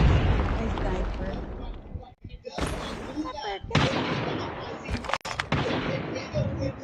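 Sniper rifle fire in the Call of Duty Mobile game: loud, sharp blasts break through dense, continuous battle noise, with short pauses between them and a voice talking underneath.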